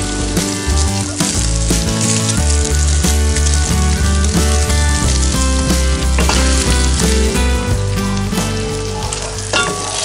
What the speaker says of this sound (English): you'll feel that, or hear the sizzle come back up